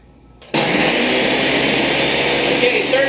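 After a short quiet moment, a blender switches on abruptly to blend eggnog and keeps whirring loudly and steadily at high speed for several seconds.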